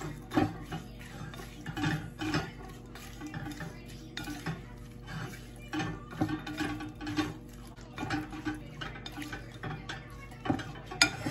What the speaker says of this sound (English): I'm just gonna mix it all together